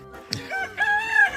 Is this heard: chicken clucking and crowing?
yes